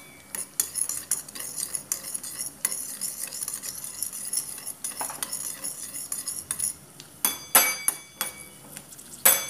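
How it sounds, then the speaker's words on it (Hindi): Cashews frying in half a spoon of oil in a pan, stirred with a spoon that clinks and scrapes against the metal in frequent irregular taps over a soft background sizzle, ending in a few louder clatters. "हम पहले ये काजू आधा चम्मच तेल डाल के हमें ये काजू पिंक कलर आ जाए तब तक पकाना है।"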